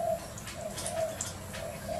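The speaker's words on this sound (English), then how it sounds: "these cheeky lorikeets will push the king parrots out of the way" Lorikeets and king parrots calling in a backyard in Nerang, a few short high squawks and chirps over a steady low hum and background noise, with no voices.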